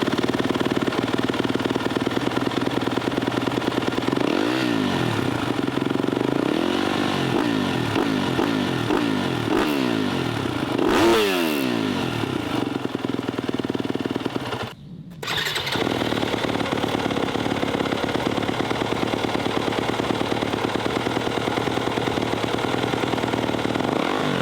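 A Yamaha YZ250F four-stroke dirt bike with an FMF 4.1 full-system exhaust idles loudly and close, then revs up several times in rising and falling sweeps. The engine dips briefly near the middle and then settles back into a steady idle.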